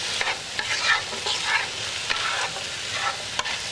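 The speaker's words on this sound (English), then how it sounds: "You're just going to saute this until you see it starting to brown and get just a little bit wilted" A vegetable topping sautés in a pan for a brunch dish, giving a steady close sizzle broken by scraping stirs and a few sharp clicks of a utensil against the pan, with no voices.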